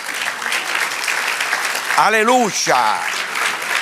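A church congregation claps steadily during a sermon, with a voice calling out briefly in the middle over the continuous applause.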